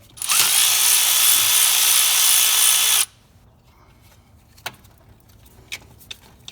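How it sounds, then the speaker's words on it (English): A 12mm socket driven by a power tool spins off the nut on a Nissan Titan's battery cable, a loud continuous whir of about three seconds that cuts off abruptly, followed by a few faint clicks. "by using our 12mm socket, we can take off this nut and take off our battery cable"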